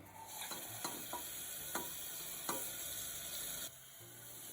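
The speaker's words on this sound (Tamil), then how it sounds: "நல்லா வதங்கின பிறகு நம்ம தக்காளி பேஸ்ட்டு இதில் ஊற்றி நல்லா கிளறி விடலாம்" Tomato paste being stirred into sautéed onions in a pan for a mushroom gravy, a soft steady sizzle broken by a few scraping spoon strokes, no voices.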